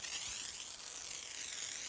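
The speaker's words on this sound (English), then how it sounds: "I'm just going to spray down the vehicle with the rinseless wash" Rinseless wash misted from a spray bottle onto a car's paintwork, heard as a steady, close hiss lasting the whole moment with no pauses and no voices.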